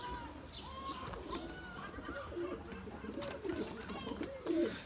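Mardin pigeons coo softly and repeatedly at close range in a coop, with low throaty warbling calls overlapping against a quiet background.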